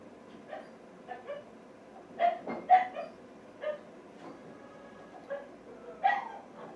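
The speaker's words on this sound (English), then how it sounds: "That's my dog." A dog barks and yips indoors, a string of separate short barks at irregular intervals, moderately close against a quiet background, with no speech.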